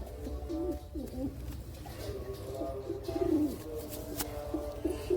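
Several pigeons coo softly and repeatedly at close range, their low throaty calls overlapping against a faint steady background hum.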